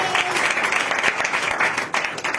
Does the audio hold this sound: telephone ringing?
no